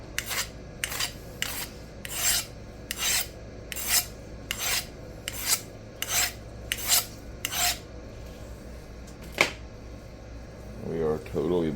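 Steady back-and-forth strokes of a knife blade across a Rikon 400/800 grit CBN bench stone, about a dozen regular rasping passes close up, followed by one sharp scrape and a short pause.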